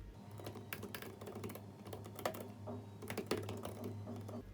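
Rapid, uneven clicking of computer keyboard keys as code is typed, close and steady over several seconds with a few slightly louder keystrokes and no talk.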